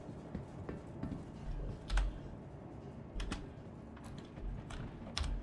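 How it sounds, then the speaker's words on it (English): Rustling and clicking of cargo boxes spawning in the Star Citizen video game, a run of light irregular ticks and rattles with a few sharper knocks, fairly close and moderately quiet. "what you can hear, that rustling, those are actually the boxes still spawning in"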